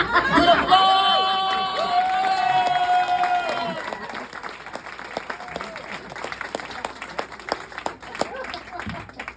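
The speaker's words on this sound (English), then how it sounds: "Good applause!" Audience applause and cheering at an open mic comedy competition, a loud crowd burst with whoops that thins into scattered clapping and chatter over several seconds.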